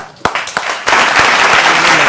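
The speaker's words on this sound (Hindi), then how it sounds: "तालियां!" Studio audience applause on a Hindi TV interview set with cricketer Gautam Gambhir: a few sharp separate claps at first, then a dense, loud burst of clapping that swells and holds.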